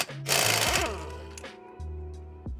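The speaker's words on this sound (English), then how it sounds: "Normally, this is not that easy to take off, but with air tools, it makes it so much easier." A pneumatic air impact tool spins off a brake hub nut during a Brembo caliper and bracket install on an FRS/BRZ, giving a loud, near whirring rattle in a few short bursts with brief pauses.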